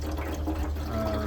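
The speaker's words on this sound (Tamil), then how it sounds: "திருப்பி தண்ணி ஃபுல்லாக ஆக்கிட்டு" Water runs steadily into a rusty petrol tank, a continuous filling gush heard close up for a moment, alone without voices.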